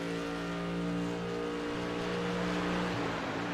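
BMW GT3 race car, the Simability number 9 Team West Racing entry, in an iRacing GT3 race, its engine droning at steady high revs with a dense harmonic whine that holds throughout and shifts pitch slightly near the end.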